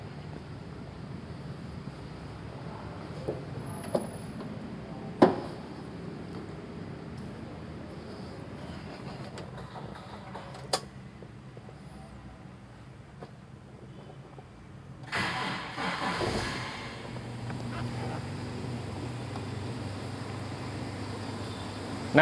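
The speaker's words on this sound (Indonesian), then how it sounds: "Nah, kendaraan ini bisa hidup, mesin ini bisa hidup karena adanya bantuan dari sistem starter" A car's electric starter motor cranks briefly and the engine catches, followed by a steady idle hum, with a few sharp clicks earlier in a quiet workshop-style setting.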